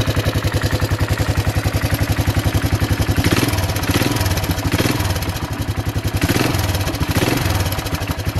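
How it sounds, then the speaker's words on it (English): A 1984 Honda ATC200ES Big Red three-wheeler's small engine idles steadily up close, its rapid chugging pulse uneven with a rough, puffing clatter from an exhaust leak. "there's a bit of an exhaust leak I just noticed"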